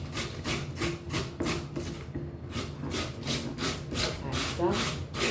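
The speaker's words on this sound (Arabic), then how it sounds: "كمل نقطع الثانيه ونرجع لكم" A knife cutting eggplant for a moussaka gratin, a close rhythmic run of rasping strokes, about two per second, with a brief pause midway.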